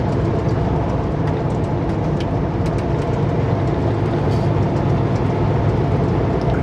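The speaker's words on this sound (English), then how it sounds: "My guess is it's a coal train." A coal train passes in the distance beside the Trans Canada Highway near Kamloops amid wildfire smoke, a steady broadband rumble with faint clanking that holds at an even level throughout.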